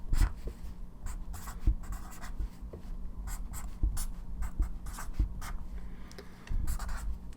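A pen drawing chemical structures by hand on paper, with continuous scratchy strokes and taps in an irregular rhythm, heard up close and alone.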